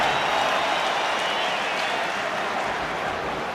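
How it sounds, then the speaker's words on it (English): Huge rugby crowd in a Belfast stadium at an Ulster versus Connacht semi-final qualifier, a dense sustained roar of cheering and applause that stays loud and even throughout. "That's what the huge cheer is for."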